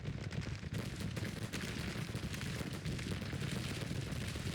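Civil War cannon fire in the strategy video game Grand Tactician: The Civil War, a dense, continuous rumble of distant guns and crackling volleys, steady and without pause, fairly quiet overall.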